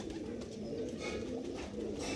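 A large pigeon held for sale at a pigeon market in Lucknow coos softly and continuously at close range, a low quiet murmur with faint background bustle.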